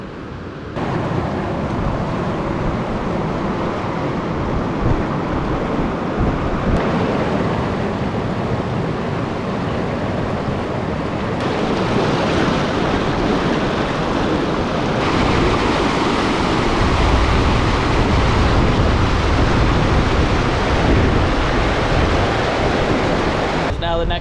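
Steady, loud rushing water from a mountain stream in Kings Canyon National Park fills the whole stretch, a continuous broad roar with no voices.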